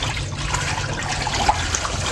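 Tap water running steadily over strawberries being rinsed, a close continuous splashing wash with no speech.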